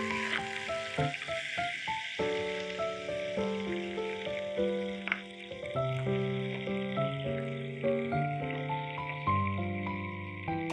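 Large octopus pieces fry lightly in a pan until crisp on the outside, making a steady sizzle that sits under louder background music.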